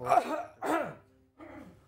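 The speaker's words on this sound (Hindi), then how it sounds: "खांसी आ रही है" Two harsh coughs in quick succession, followed after a short pause by a softer throat-clearing sound.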